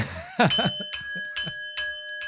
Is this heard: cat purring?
no